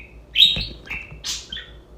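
Pet bird calling loudly at close range: a few sharp, bright chirps and squawks in quick succession over a quiet indoor room.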